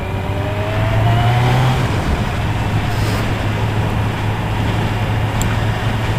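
Kawasaki Z900 motorcycle with an Akrapovic exhaust running steadily while riding, a loud constant engine drone with a brief rise in pitch early on, wind and road rush mixed in.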